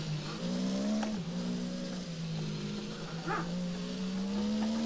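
A racing car engine in the rFactor sim racing game, in a wet-weather test, holds a steady droning tone that rises and dips slightly with a brief change in pitch, alone and moderately loud.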